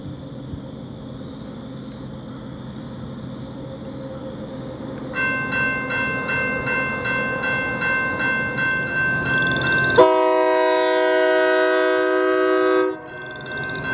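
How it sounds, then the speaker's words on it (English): A Wisconsin and Southern manifest freight train leaving the yard at Ackerville, with a steady rumble, rhythmic clanking of passing cars building up, then a loud sustained multi-tone horn blast near the end. "a Wisconsin and Southern manifest leaves the yard at Ackerville, heading south towards Rugby Junction"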